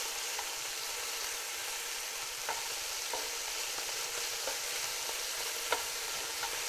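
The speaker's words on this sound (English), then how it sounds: "you want to make sure that all sides of the bear meat gets browned" Chunks of black bear meat for a Belgian beer stew brown in a hot pan, a steady loud sizzle with occasional light stirring taps and nobody speaking.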